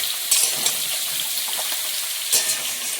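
Cauliflower and potato fry with salt and turmeric in a pan, a bright continuous sizzle with a couple of louder crackling bursts as the pieces are stirred.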